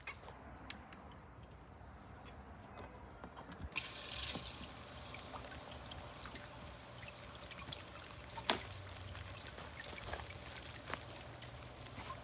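Water trickles steadily from a small battery-powered pump in a DIY plant propagation station, a faint continuous dribble with a brief louder splash and occasional ticks, no voices.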